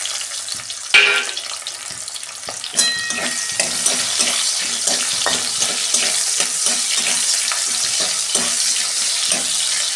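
Tomatoes with bay leaf, cinnamon and cardamom fry in hot oil with a loud, continuous sizzle, a sharp burst at first contact, and scattered spatters and utensil scrapes.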